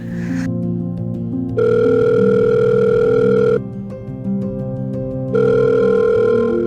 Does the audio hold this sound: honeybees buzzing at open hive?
no